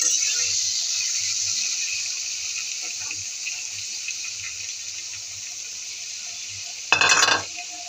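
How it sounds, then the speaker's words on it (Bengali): Mango pieces stirred in hot mustard oil for a sweet, sour and spicy mango pickle, giving a steady close sizzle with soft scraping, and a brief louder clatter near the end. "এখন একটু নাড়বো।"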